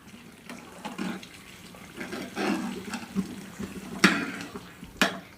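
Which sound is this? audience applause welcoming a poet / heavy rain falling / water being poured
water being poured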